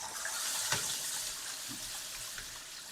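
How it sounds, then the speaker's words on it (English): Toilet flushing in an upstairs unit, water rushing down through a sewage pipe in a bathroom under demolition, a steady faint whooshing flow with a couple of soft knocks. "flush the toilet so you can hear how loud it"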